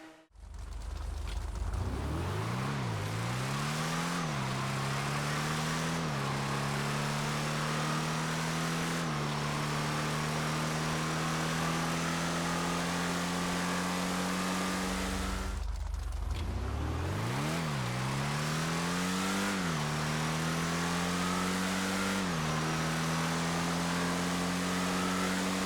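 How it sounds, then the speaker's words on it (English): A car engine in the GTA 5 video game revs up steadily through several gear changes, each upshift dropping the pitch before it climbs again, then a cut and another run of loud acceleration and shifts. "Just listen to the engine note and the gear changes in these before and after clips"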